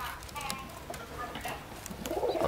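Young pigeon squabs from silver and blue parent pigeons make soft, scattered calls close by, with faint background sounds and what may be a quiet voice, growing a little louder near the end.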